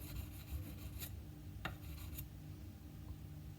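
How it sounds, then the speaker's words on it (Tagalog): Sandpaper rubs and rasps against a Glock trigger part during a trigger tune-up, with close, quiet, steady scraping strokes and a few sharper swipes. "Ikot-ikotin lang natin yung liha."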